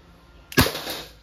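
An Umarex M92FS full-metal .177 air pistol fires a single sharp, fairly loud crack with a brief ringing tail, set against a quiet room.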